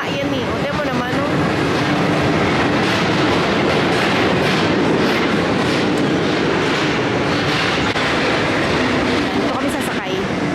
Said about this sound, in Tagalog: So, ayan yung train na galing sa kabilang side.